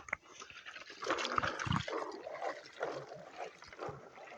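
Water splashing and trickling in a pot as a clay cooking vessel is washed with salt in a village setting, an irregular near slosh and drip with a few louder splashes, no talk.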